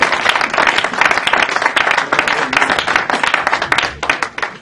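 A church congregation claps and applauds to acclaim Jesus, with loud, dense, steady hand claps from many people filling the room without a break.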